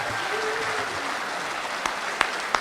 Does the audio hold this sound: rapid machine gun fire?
no